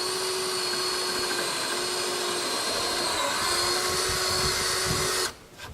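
A power drill with a 1/2-inch bit bores holes through a guillotine-style wild pig trap door, whirring at a steady loud pitch for about five seconds before cutting off abruptly near the end.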